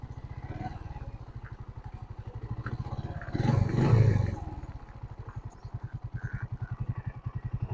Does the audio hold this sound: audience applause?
no